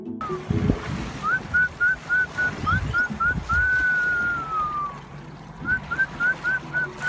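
Short repeated whistles from a person calling orcas beside a kayak ring out in a steady rhythm over wind and lapping surf, followed by one long gliding whistle and another quick series.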